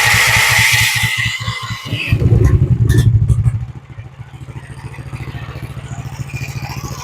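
An engine on a machine with a 40 Series primary clutch starts and runs, loud and close, with a rough clattering rev that settles into a steady rhythmic idle while the clutch and belt keep spinning in neutral.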